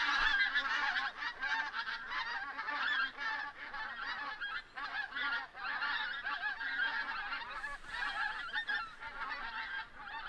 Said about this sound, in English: That's a flock of birds going crazy.